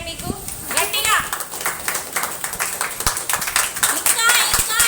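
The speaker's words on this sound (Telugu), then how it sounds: "క్లాప్స్ కొట్టండి మీకు గట్టిగా" A group of children claps loudly and rapidly in a room, a dense, uneven patter of hand claps mixed with children's voices and an adult speaking over them.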